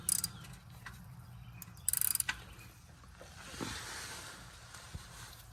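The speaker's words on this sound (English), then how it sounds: "The next step is to go ahead and remove your oil drain plug." A 3/8 inch ratchet with a 17 mm socket works the oil drain plug on a 2014-2018 BMW X5 35i, giving short metallic clicking bursts and scraping mechanical noises, fairly close and moderately quiet, with no talking.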